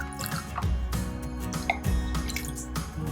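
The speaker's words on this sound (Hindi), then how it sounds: "अब मैं मिलाऊंगी इसमें 1 गिलास ठंडा पानी।" Cold water pours from a glass into a sweetened mango mixture for homemade mango drink, a close, continuous gurgling splash with liquid sloshing throughout.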